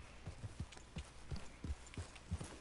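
Horse hooves clip-clop at an easy walking rhythm in the video game Red Dead Redemption 2, close and fairly loud, with a faint background ambience.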